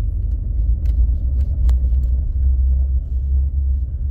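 A car with a misfiring engine and transmission shifting trouble, driving steadily in drive with a continuous low engine and road rumble throughout, nearby and fairly loud, gear changes not distinct.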